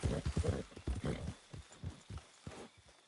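Horse hooves clip-clopping in the video game Red Dead Redemption 2: quick, close, rhythmic hoof thuds at a trot, strong at first then a little softer, with no talk.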